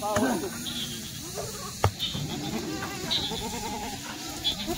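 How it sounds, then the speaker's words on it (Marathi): Kathiawari goats bleat a few times amid farmyard noise, with people talking nearby throughout. "हे बघा शेळ्या."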